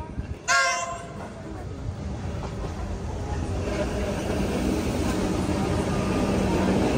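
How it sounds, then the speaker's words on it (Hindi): A metro train pulls into a Melbourne station on the opposite platform. A short horn blast is followed by a steadily building, loud rumble of wheels and carriages that fills the platform. "ये एक ट्रेन आ रही है दूसरी साइड पे"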